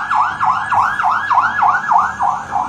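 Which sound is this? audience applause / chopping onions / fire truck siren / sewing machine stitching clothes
fire truck siren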